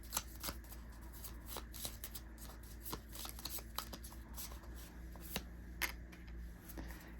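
Tarot affirmation cards being shuffled by hand, a soft continuous riffle of card edges with repeated light flicks and taps, close and quiet with no talking.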